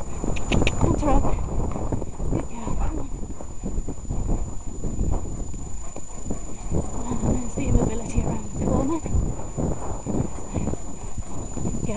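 Horse cantering over rough, boggy moorland ground with gorse during a TREC competition, steady clip-clop hoofbeats throughout alongside heavy breathing, wind buffeting and a rider talking.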